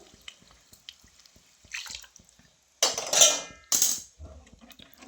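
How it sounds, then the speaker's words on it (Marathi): Heated water is poured into toor dal amti in a home kitchen, a couple of short splashing bursts among soft drips and clinks, fairly close, with no talk. "आता गरम केलेलं पाणी टाकायचे"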